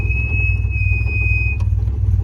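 An old car squeals with a steady high-pitched whine as it starts in the cold, over a constant low engine rumble, up close and fairly loud, with the squeal cutting off near the end.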